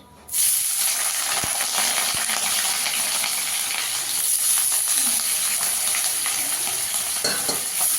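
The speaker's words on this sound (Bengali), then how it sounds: "আলুটাকে একটু ভেজে নেব আগে।" Potato pieces frying in hot oil in a kadai give a steady, loud, continuous sizzle and hiss throughout, with a couple of faint utensil clicks near the start and no talking.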